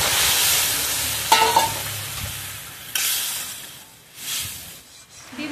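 Hot water poured into sizzling fried masala in a pan for a Bengali rohu fish and potato curry, giving a steady loud hiss with sharp spitting bursts and occasional stirring scrapes.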